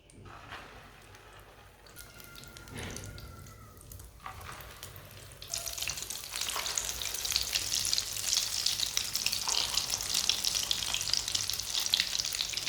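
Aloo tikki dipped in egg sizzles in hot oil on a stove, starting with scattered crackles and small clatters, then a steady, louder frying hiss that builds and holds close by, with no voices.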